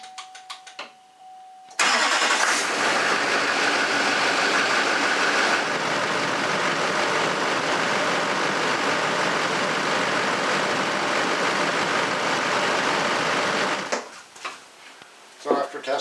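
A Duramax LLY 6.6L diesel engine, freshly fitted with a new water pump, cranks and catches abruptly after a quiet start, then runs at a steady, loud, close idle for about twelve seconds before shutting off.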